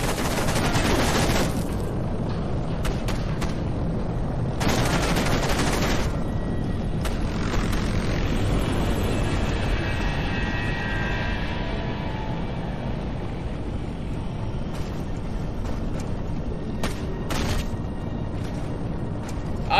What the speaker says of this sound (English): Yes, let's have a helicopter fight!